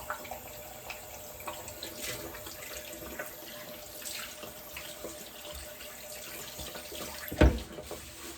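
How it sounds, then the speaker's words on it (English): A tap runs steadily in a bathroom sink while hands are washed, a soft continuous water rush with light splashing, then a brief louder knock or splash near the end. "Wash my hands."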